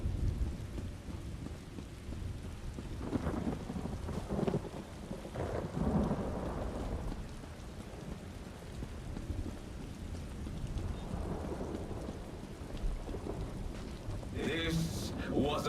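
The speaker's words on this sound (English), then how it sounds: "A storm." Thunderstorm in the video game Elder Scrolls Online, High Isle: steady rain hiss with rolling thunder rumbles swelling throughout, a voice talking over parts of it.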